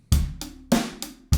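Steady drum beat with crisp hi-hat strokes over kick and snare hits, played evenly at a moderate tempo.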